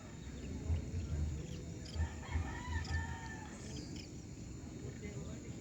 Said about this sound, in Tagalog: Dito naman ang nagkalat yung mga ibon dito sa gilid guys oh.